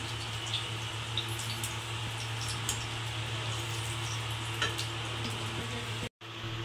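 Eggs fry in hot oil in a pan for an egg korma, giving a steady close sizzle with scattered pops and crackles over a low constant hum, broken near the end by a split-second dropout.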